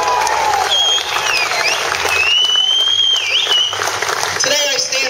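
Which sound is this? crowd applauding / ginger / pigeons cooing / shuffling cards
crowd applauding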